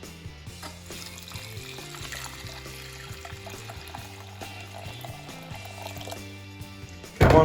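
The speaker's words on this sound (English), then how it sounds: "Chuck some water in there, let's get this show on the road." Water poured into a bowl of oats, a soft trickling fill heard faintly beneath background music, with a louder splash near the end.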